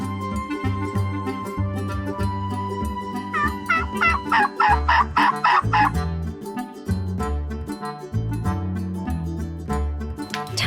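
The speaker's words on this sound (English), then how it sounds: "and a turkey." A farm turkey lets out a loud, rapid gobble in the middle, surrounded by other fowl calls and low farmyard clucking.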